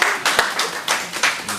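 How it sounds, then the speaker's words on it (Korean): An audience claps in a short, uneven burst of separate claps, some sharp and close, over a faint background murmur. "박수!"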